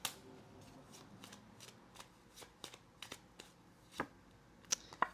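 Tarot cards being shuffled and pulled: a quiet, close series of crisp riffling flicks and soft slaps, irregular and spaced through several seconds, with a few sharper snaps near the end.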